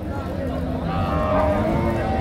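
Cattle low and moo amid the steady crowd bustle of the Chaugachha livestock market in Bangladesh, with a drawn-out call rising near the middle and a constant hubbub of voices underneath.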